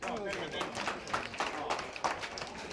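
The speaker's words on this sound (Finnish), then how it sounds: "Mä annan tässä aplodit" Audience applause at a live music evening, a continuous patter of clapping with a voice heard over it.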